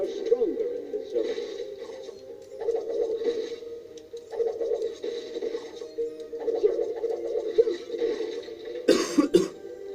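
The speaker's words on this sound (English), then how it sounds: "Sorry for my coughing right there" A man with a cold lets out a harsh, close burst of coughing near the end, after stretches of his own talking over quieter game sounds.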